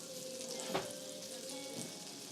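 Meat sizzles faintly and steadily on a griddle, with a couple of brief clinks or taps over the soft frying hiss and no talking.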